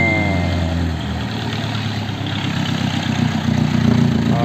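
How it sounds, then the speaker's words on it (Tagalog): A jeepney engine idles in a park parking area, with a steady low diesel rumble and a regular throb that rises slightly toward the end and carries on alone without talking. "Okay, may mga jeep"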